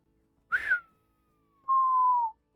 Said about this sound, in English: I whistled, but you guys obviously didn't hear it.